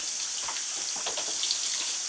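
Water hose spraying a goat during a buck washing, a steady close hiss of spray with splashing and no talk.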